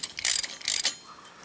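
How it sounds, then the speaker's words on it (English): A ratchet with a 27 mm socket tightens the brake disc nut on a Polaris ATV, giving two quick bursts of clicking close by, then quiet, with no talking. "all you need to do is just tighten it down. I believe it's a 27 millimeter socket, and we want to take that to 80 foot-pounds."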